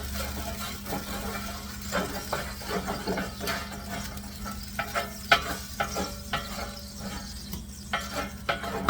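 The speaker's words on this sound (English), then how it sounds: "deglaze it with half a cup of white dry wine" White dry wine hits a big hot duck roasting pot and sizzles while a utensil scrapes and stirs the bottom, giving a steady hiss with irregular knocks and scrapes up close.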